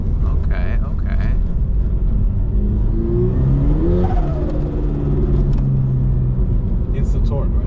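A carbon fiber Toyota GR86 with a 1000hp 2JZ engine accelerates, its engine tone rising steadily then settling into a sustained drone, heard from inside under a constant road rumble, with a brief voice at the start.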